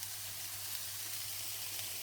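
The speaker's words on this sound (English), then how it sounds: "just fry off the bacon until it's cooked through" Bacon fries in a pan with a steady, dense sizzle and hiss, close and continuous, with no talk.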